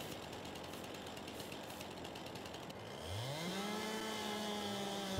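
Chainsaw cutting through a tree in the farming game Farming Simulator 22, a rough rattling buzz that gives way to a rising, revving engine whine, loud and close with no talking.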